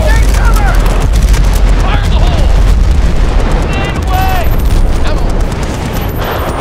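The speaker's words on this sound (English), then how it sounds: "I want to rip with my heavier MG right over the ridge" Heavy machine gun fire rips continuously in a video game battle over a ridge, a dense, loud stream of rapid shots with booming impacts, mixed with faint voices over the din.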